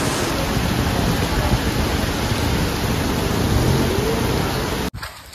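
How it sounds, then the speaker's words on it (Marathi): A sudden downpour of rain gives a loud, steady hiss of broadband noise that cuts off abruptly near the end, with no voices. "अचानक पावसाने हजेरी लावली"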